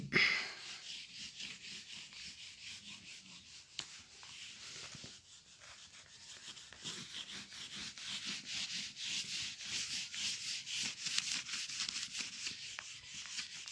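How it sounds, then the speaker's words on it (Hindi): Writing being rubbed off a classroom board with a duster, a steady close scrubbing that runs continuously for about fourteen seconds, with short pauses and strokes building slightly louder toward the end. "अब मैं इसको रब कर लेता हूँ यहाँ पे"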